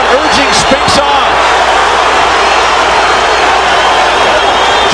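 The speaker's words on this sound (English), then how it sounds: "The crowd urging Spinks on." A boxing arena crowd roars steadily and loudly, urging on Cory Spinks in his fight against Zab Judah, with a few sharp thuds and a commentator's voice over the noise.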